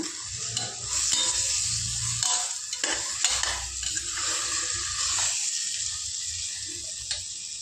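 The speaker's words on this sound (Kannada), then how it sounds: "ಈಗ ಇದನ್ನು ಚೆನ್ನಾಗಿ ಮಿಕ್ಸ್ ಮಾಡೋಣ." Vegetable pulao stirred in a sizzling pan, a spoon scraping and turning the rice in irregular bursts over a steady frying hiss, close by, with no talking.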